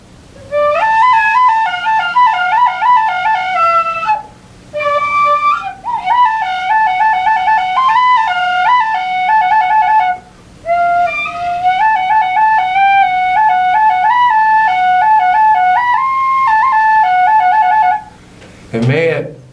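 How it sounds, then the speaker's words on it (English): A tin whistle made in Dublin plays a bright, clear melody close up, its phrases separated by short breaths, with a brief rustle at the end. "So this tin whistle is made in Dublin."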